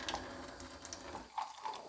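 Water pours from the hose of a Kangen water machine in a soft, steady stream, quiet and close, with faint splashy flickers as it fills a container.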